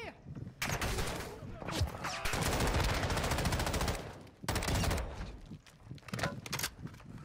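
Sustained automatic gunfire in a Call of Duty Warzone DMZ match, rapid bursts of shots near and loud for most of the stretch with brief pauses, while a player talks over it.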